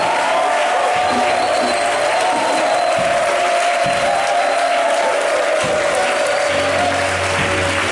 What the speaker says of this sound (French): je vous demande d'acclamer Jésus pour la victoire